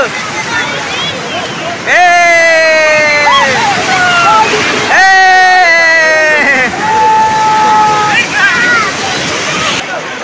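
Sea waves roll in at Old Digha beach, a continuous loud rush of surf with people talking and calling out excitedly over it.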